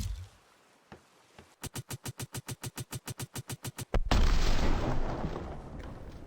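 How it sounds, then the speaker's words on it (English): Explosive barrels going off in the game ATLAS: first a fast, evenly spaced string of sharp bangs, then a single loud blast that gives way to a dense, rumbling roar that slowly fades. "so hopefully we can damage more than one with a single explosion."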